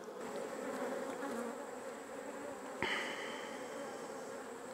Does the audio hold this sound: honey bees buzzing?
yes